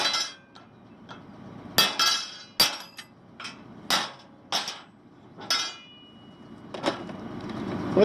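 Sharp metallic blows ring out in an irregular series of about a dozen strikes, each a bright clang with short decay, close and loud against a quiet background.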